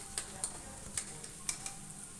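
Mashed taro being stirred with garlic and chili paste in a pan, a soft scraping bed punctuated by a few sharp spoon clicks against the metal at irregular intervals, close and fairly quiet.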